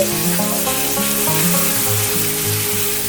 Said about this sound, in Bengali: পেঁয়াজটা একটু ভাজা ভাজা করে নিচ্ছি।